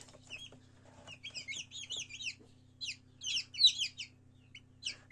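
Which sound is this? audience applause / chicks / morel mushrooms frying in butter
chicks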